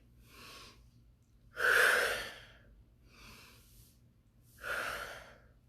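Deep, slow breathing during a gentle stretching and movement session: two soft airy inhales alternating with two stronger, fuller exhales, close and alone with no talking.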